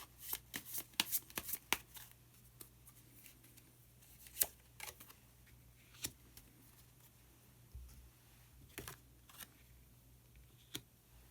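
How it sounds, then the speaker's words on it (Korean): Osho Zen tarot cards being shuffled and drawn, a run of crisp, quiet riffles and flicks that come thick at first, then fall to occasional soft slaps and taps close by with no talk. "카드 한 장을 더 뽑고 이야기 계속 나오도록 하겠습니다"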